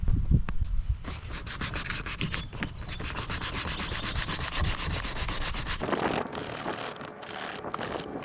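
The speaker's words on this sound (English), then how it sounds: "All right, let's get this sanded." Steady hand sanding of a Yamaha 225DX three-wheeler's plastic rear fender, continuous close rubbing strokes with a brief pause near the end before the scratching resumes.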